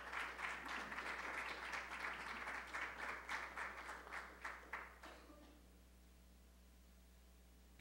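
Audience applause welcoming a speaker at an economics education event, steady clapping from a room of people that fades out after about five seconds, leaving quiet room tone.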